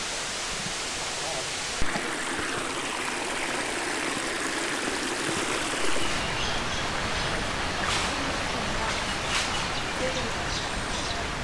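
A stream rushing through Galvans Gorge on the Gibb River Road, a broad, steady wash of flowing water that fills the scene continuously, close and fairly loud, with a faint bird call or two above it.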